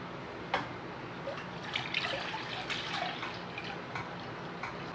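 Clam-juice tomato mix being poured into a container for Bloody Mary pickles, a steady liquid splash and trickle with a few small drips, close and fairly quiet, with no voices.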